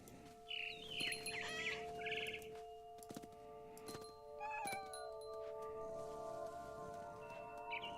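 In the game What Remains of Edith Finch, a cat gives a few short meows and caterwauls while frightened birds chirp and tweet, all set against a quiet musical drone.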